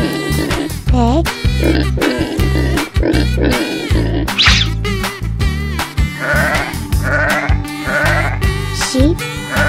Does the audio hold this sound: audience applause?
no